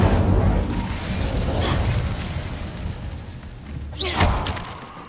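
An Incendio fire spell goes off in a dense, roaring whoosh of flame that carries through the whole stretch, with a brighter crackling burst near the end and no talking.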